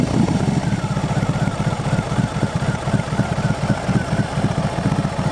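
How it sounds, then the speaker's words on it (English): A BMW R 18 Transcontinental motorcycle engine runs close by with a deep, rapid, pulsing exhaust throb that holds steady throughout. "nice deep sound from the pipes, rev it up."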